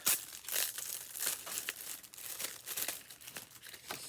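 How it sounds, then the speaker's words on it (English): Craft supplies for cutting machines being unwrapped from their packaging, with a steady run of crinkling and tearing plastic close up, rising and falling in bursts over several seconds. "let's get this unwrapped."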